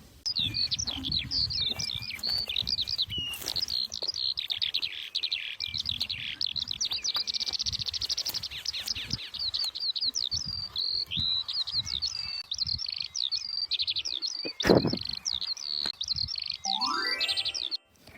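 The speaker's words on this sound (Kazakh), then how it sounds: "Бұл торғай. Ең таныс кішкентай қала құсы. Үнемі шиқылдап жүреді." A sparrow chirps in quick, busy bursts that repeat throughout, close and clear, over a faint insect-like trill in the background.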